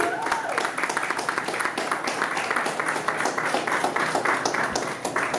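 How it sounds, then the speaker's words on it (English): Audience applause at a minority business showcase event as a finalist is called up, dense continuous clapping throughout with a faint voice underneath. "Can we give a round of applause to Jonathan Harris"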